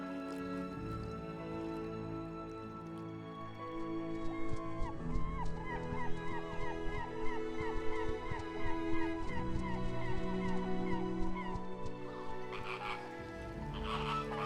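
Coastal birds on the Namib coast call in a dense, continuous chorus of croaking, honking cries over steady background noise.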